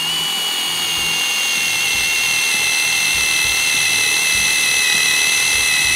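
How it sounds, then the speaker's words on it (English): A drill whines continuously at high pitch while boring through a hard metal tap, loud and close, with a steady grinding tone throughout. "you can drill right through it."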